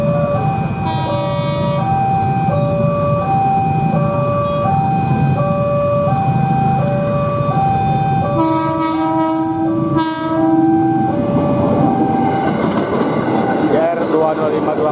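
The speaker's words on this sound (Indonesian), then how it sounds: "KRL udah berangkat loh." A KRL commuter train pulls away toward Angke, with a steady rail rumble and a repeating multi-tone melody sounding over it, a sustained horn-like tone partway through, and a voice talking faintly beneath.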